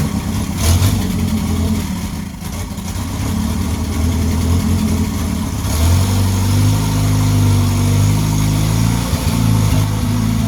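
A 1953 Riley car engine runs steadily and loud throughout, its low rumble rising as the old car pulls away and drives, with no talking.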